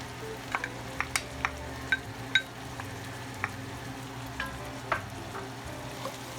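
Chopped onion sizzles in a pot for New England clam chowder, a soft continuous frying hiss with scattered spoon clinks and scrapes as it is stirred in.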